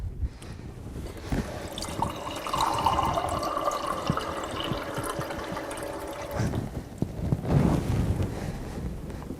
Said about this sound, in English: 3/4 of the way, we're going to fill it up with water